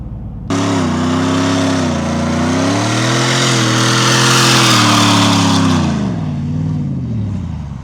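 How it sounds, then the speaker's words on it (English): A 700-horsepower four-wheel-drive shop truck launches hard, its engine snapping from idle to a loud, sustained roar that climbs steadily through the run before easing off near the end, with no talking. "the four-wheel drive launch is definitely not as solid or fun in this configuration, but it still hooks up and goes"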